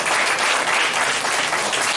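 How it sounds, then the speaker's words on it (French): A crowd at a party's fourth statutory congress claps in a loud, thick, continuous burst of applause that fills the whole moment with no break. "On acclame les amis."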